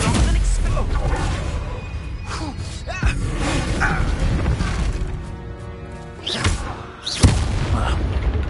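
Confringo spell explosions in Hogwarts Legacy, heavy booming blasts and crashing impacts in a combat scene, mixed with voices and effects throughout and a sharp, loud burst near the end.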